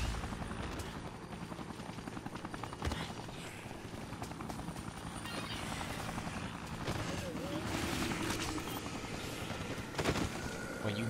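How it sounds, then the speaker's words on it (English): A helicopter arrives in the video game Dead Rising, its rotor thumping steadily and loudly for the whole stretch, with dense engine noise and scattered game effects beneath. "now the helicopter's here"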